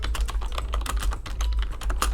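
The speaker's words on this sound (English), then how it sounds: "Everyone can hear my apparently very loud keyboard." A loud computer keyboard clatters close up with quick, uneven keystrokes in bursts and brief pauses, heard alone over a low hum.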